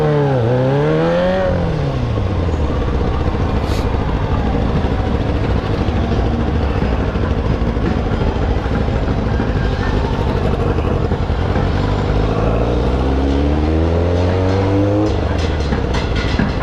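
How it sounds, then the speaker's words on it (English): City road traffic in Nashville, with cars driving past and engines rising and falling in pitch as they approach and pass. The sound is loud and continuous, with a clear pass-by early and another toward the end. "all this traffic"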